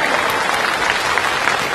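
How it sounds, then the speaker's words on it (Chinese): A comedy sketch audience breaks into applause on cue, a dense, sustained clapping crowd that fills the room evenly, close and loud, with no voices over it. "这还得鼓掌，每回都这么说的"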